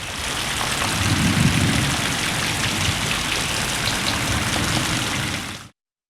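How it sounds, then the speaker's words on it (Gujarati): Heavy rain pours down steadily during a downpour in Gujarat amid lightning storms, a dense continuous hiss close by with a deeper rumbling layer underneath, no voices, until it cuts off abruptly near the end. "હવે વાત ધોધમાર વરસાદ વિશે"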